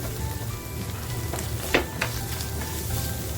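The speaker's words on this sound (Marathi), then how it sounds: "आपल्याला आपला घरगुती मसाला सुद्धा त्या मसाल्यामध्ये आता छान फ्राय करून घ्यायचा आहे" Homemade masala spice blend frying in a pan for a prawn tawa masala, a steady close sizzle with a few sharper pops and scrapes partway through, no talking.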